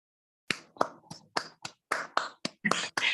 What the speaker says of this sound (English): Teachers and students, please give a round of applause to her.